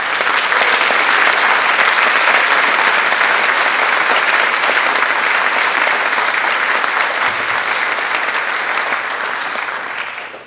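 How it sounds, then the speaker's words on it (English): Loud, sustained applause from a school audience honoring award-winning junior students at an academic awards and National Honor Society induction, a dense wash of clapping lasting about ten seconds before tapering at the end. "Give them a round of applause."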